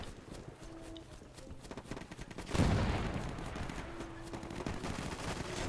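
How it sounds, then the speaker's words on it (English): Infantry gunfire in the World War II game Easy Red 2, a rattle of distant shots that grows into a louder, dense fusillade over running, clattering game sounds. "The infantry's shooting at me."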